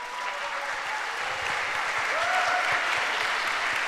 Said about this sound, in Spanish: yo creo que merece un aplauso fuerte